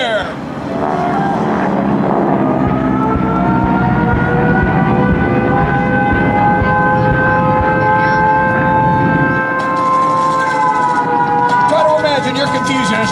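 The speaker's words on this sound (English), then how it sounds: "Hear the sirens just as they did that day." Air raid sirens wail across the 2011 Wings Over Wayne Airshow grounds during a Tora Tora Tora Pearl Harbor reenactment, with loud, sustained rising and falling tones layered over a dense, continuous rumble.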